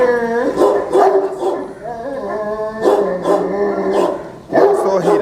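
A two-and-a-half-year-old bully dog, a fighting breed, barks and yowls loudly up close in repeated drawn-out bursts, with a brief pause between volleys.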